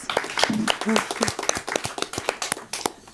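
A small group clapping with sharp, uneven claps, while a voice speaks over the start of the applause.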